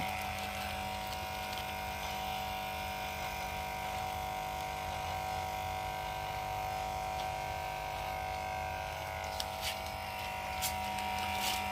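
Electric hair clippers cutting a child's hair at home, a continuous close buzzing drone that holds steady throughout with slight changes in pitch and load as the blades move.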